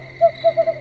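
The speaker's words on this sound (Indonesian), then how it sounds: "seekor burung hantu besar di pohon itu berbunyi" A large owl hoots from a tree: four soft, rounded hoots with short gaps between them, fairly close, over a steady low background hum.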